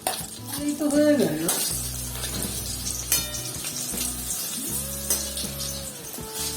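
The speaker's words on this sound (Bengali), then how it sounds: "এই হচ্ছে মাছের ডিমের বড়া ভাজা" Fish roe fritters fry in a pan with a soft, continuous sizzle. Clinks of utensils and other tonal household sounds sit over the sizzle at moderate loudness.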